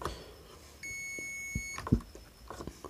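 An induction cooktop's buzzer under repair for an E2 error gives one steady electronic beep of about a second, followed by a few small clicks and handling knocks on the workbench.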